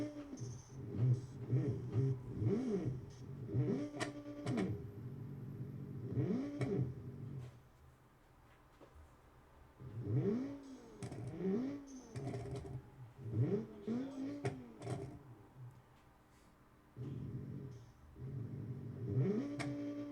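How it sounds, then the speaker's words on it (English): Car engine in the racing game Automation idly revving: repeated rising and falling engine revs in bursts, with short lulls between, fairly close and steady. "just gonna sit here idly revving."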